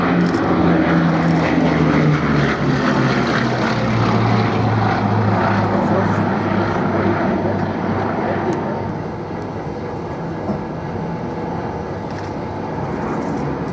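A Blenheim propeller aircraft flies past, its big piston engines droning loud and continuous throughout, the pitch sliding lower midway as it passes and then settling into a steady, slightly fainter roar.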